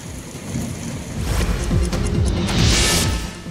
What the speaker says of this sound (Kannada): ಕಳೆದ ಅರ್ಧ ಗಂಟೆಯಿಂದ ಭಾರೀ ಮಳೆಯಾಗ್ತಾ ಇದೆ